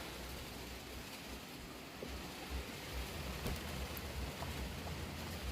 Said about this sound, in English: Well, it's finally a-raining.